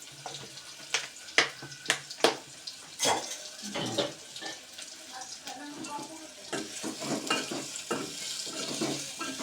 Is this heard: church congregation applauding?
no